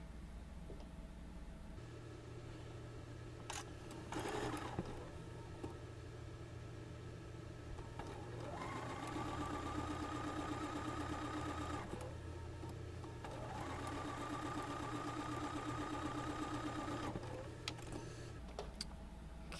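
Domestic sewing machine stitching a quilt block seam, two close whirring bursts of several seconds each over a low steady hum, no talking.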